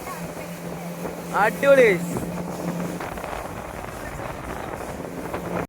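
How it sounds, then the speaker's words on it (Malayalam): A motorboat engine drones steadily on the Alleppey backwaters, its low hum mixed with wind buffeting the microphone, while a person briefly speaks over it. "ഇതാട്ടാ കൈ നമ്മള് വന്ന ബോട്ട്"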